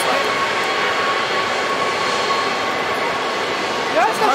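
A jet airliner bound for Shanghai roars steadily at Zurich Airport, a broad loud engine rumble sustained through the whole stretch with no break.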